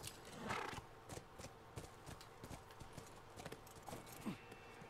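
Horse hooves clop steadily in The Last of Us, a close walking rhythm of distinct, quiet hoofbeats continuing throughout without speech.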